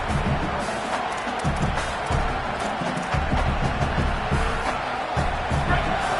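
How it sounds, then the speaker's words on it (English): A stadium crowd in a college football video game roars loud and steady, dense and continuous throughout, with swells of cheering and thuds from the field blended in. "The roar of the crowd trying to fuel this defense to keep them pinned in their own end"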